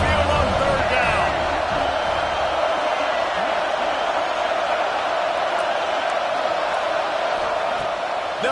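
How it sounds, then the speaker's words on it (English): Loud, sustained roar of a college football stadium crowd at Saban Field on third down, a dense continuous wall of noise throughout, with an announcer talking over it. "The Tide crowd rolling noise down onto Saban Field on 3rd down."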